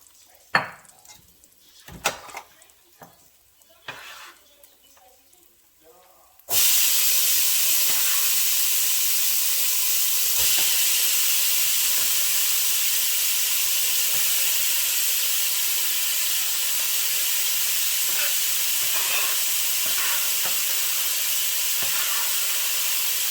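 Chopped onion, celery and bell pepper hit a hot pot for New Orleans yakamein, bursting into a loud, steady sizzle that holds for many seconds after a few clinks of utensils, with occasional faint stirring scrapes.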